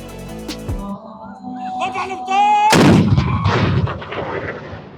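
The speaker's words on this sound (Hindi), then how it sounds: "इसी तरह तोप का गोला चलाकर इफ्तार का ऐलान किया जाता है।" A single heavy cannon blast booms out partway through, fired from the Burj Khalifa in Dubai to announce iftar, its rumble rolling on afterward, over a steady background of tones and distant voices.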